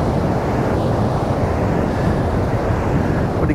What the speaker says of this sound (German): Ja, der Wind ist frisch.